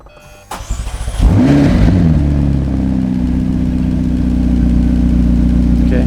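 A McLaren with a replacement eBay engine fires up, starter whirring and cranking before the engine catches with a loud flare of revs, then settles into a steady, close rumbling idle.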